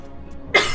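A single sharp, close cough bursts out abruptly after a quiet moment and fades quickly.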